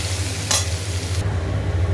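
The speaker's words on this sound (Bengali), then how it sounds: "ভালো করে এটা নাড়ে না পড়ে যাবে উল্টে।" Spiced food in a kadai sizzles loudly up close while a spatula scrapes and stirs it, with one sharp scraping stroke standing out over the continuous frying hiss.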